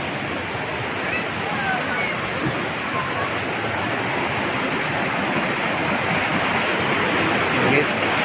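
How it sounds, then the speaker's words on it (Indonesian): Steady, dense roar of falling water from a waterfall in Aceh Tenggara, close and continuous with a slight swell near the end, no voices heard over it. "Inilah mata air dari air terjun sangat jernih"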